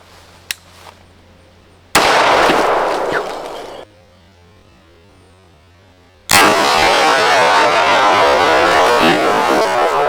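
Loud handgun shots firing plastic training rounds at a range, with two sharp blasts each followed by sustained noisy roar and spray, close and harsh, a brief voice near the start.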